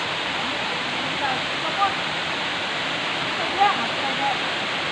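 Bagum Bayan Falls pours in a steady, loud broadband roar of falling water close by, with faint bird chirps or voices flickering briefly above it.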